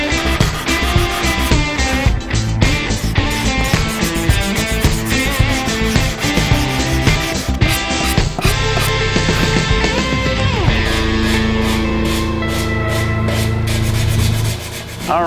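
Hand sanding and blending on a Jerry Cantrell Rampage 24 guitar body, steady, busy rubbing strokes that stay loud and close throughout, with no talking.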